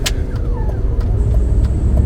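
A 2003 BMW 540i V8 engine pulls hard at 5,000 RPM in second gear, a loud, close, continuous roar with a few faint ticks over the top.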